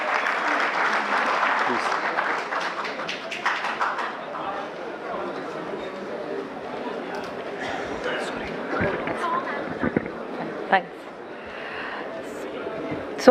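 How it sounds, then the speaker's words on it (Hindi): Audience applause at a UIDAI Aadhaar training session, steady clapping from a seated room of people that fades to scattered claps, with some background voices. "एक बार तालियों के साथ उनका स्वागत करेंगे सभी लोग।"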